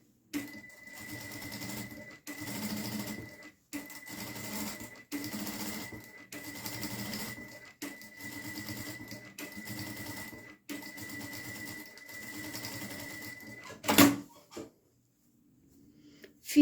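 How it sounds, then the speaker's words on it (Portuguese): A small sewing machine chatters through a series of short stitching bursts with brief gaps, running around the edge to join the main fabric to the lining of a rosary pouch, and ends with a sharp clack and quiet. "Agora, a gente vai fazer uma costurinha em toda essa borda aqui pra prender a parte principal no forro."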